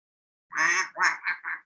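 A duck quacking in a children's story, four nasal quacks in quick succession, the first longest, heard close and alone with no talk over them.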